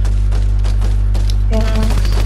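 Rapid gunfire crackles through a Fortnite match, a quick burst of shots over a steady game hum with loud bursts of speech-like noise mixed in.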